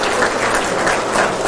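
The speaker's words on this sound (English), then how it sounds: "Could we please give you a round of applause?" At a banquet, an audience claps in a dense, loud burst of applause that holds steady throughout.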